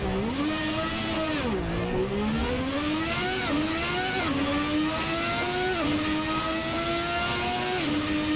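A 1991 Formula One car's V12 engine in Assetto Corsa screams loud and continuous, the pitch climbing steadily through the gears with quick drops at each upshift, heard close and alone.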